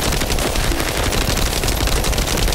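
Rapid, sustained automatic gunfire in the looter-shooter game The First Descendant, one continuous loud burst emptying a magazine with no pauses across the whole stretch.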